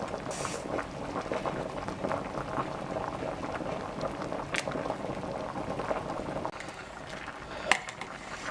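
Butter beans bubble steadily in a pot at a rolling boil, a close continuous burbling with small pops and a faint clink near the end, no talk.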